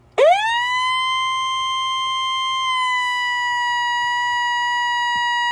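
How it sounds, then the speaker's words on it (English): A weather radio alert tone rises sharply, then holds a single pure, piercing pitch without stopping. "the siren continues until you turn it off"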